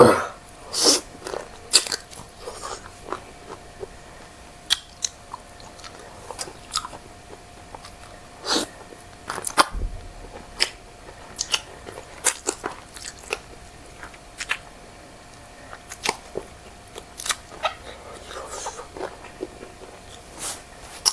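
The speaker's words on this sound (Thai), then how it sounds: "แทะมันเลยพี่น้อง" Someone gnaws and chews chicken feet served with Thai rice noodles in a thick coconut curry during an eating show. Crunchy bites and wet chewing come close up in irregular clusters over a faint background hum, with no talk.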